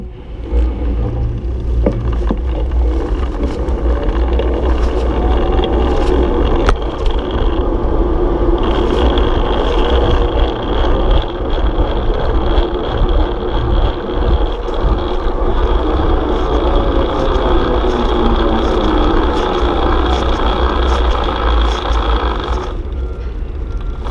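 A Superpedestrian Copenhagen Wheel electric bike being ridden with regenerative braking: loud, continuous rumbling road and wind noise, with a faint steady motor whine running beneath for the whole ride.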